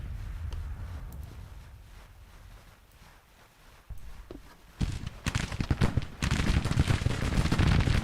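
Skirmishers open a flanking volley in a Grand Tactician: The Civil War battle at Second Murfreesboro, with crackling musket fire swelling into dense, continuous loud gunfire after a quieter stretch.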